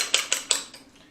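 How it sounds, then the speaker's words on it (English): Egg being beaten in a bowl for keto lemon creme sandwich cookies, three quick clinking whisk strikes in a steady rhythm, close and clear, fading out. "I'm going to beat the egg just a little bit before we put it in there."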